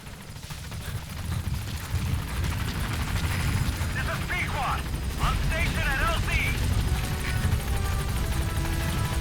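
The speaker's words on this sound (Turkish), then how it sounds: "Helikopter gelmedi mi daha?" Helicopter arriving in the video game Metal Gear Solid V: The Phantom Pain, a steady loud rotor drone and rumble throughout, with someone talking over it.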